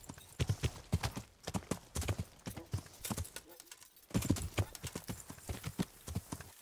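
A horse's hooves clip-clop in Kingdom Come: Deliverance, a quick run of close, sharp footfalls with brief pauses, heard while someone talks over it.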